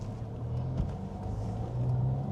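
Mercedes-Benz SL43 AMG engine and exhaust in comfort mode, a steady low rumble of the car at a moderate, even pace with a slight swell near the end; no talk.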